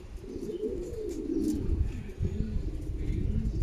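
Racing pigeons arriving home after a 290 km race coo repeatedly in low, soft murmurs, close by and continuous with some background rustle, and no talk.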